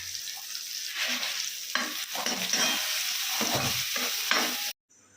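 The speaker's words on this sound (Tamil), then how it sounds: "அப்படியே இது கூட கொஞ்சம் பூண்டு போட்டு 2 பல்லு பூண்டு போட்டு அதையும் வதக்கிடலாங்க" Garlic cloves frying in a pan for Kongu-style fish curry give a dense, bright sizzle with a few stirring scrapes, close and steady, then cutting off abruptly near the end; no speech.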